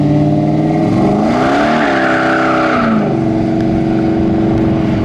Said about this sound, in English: Smokes the tires really easy